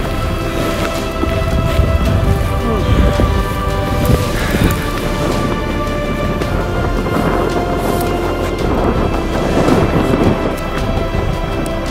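A thunderstorm in the mountains rumbles loud and continuous, low thunder rolling over steady rain with a constant roar and no pauses.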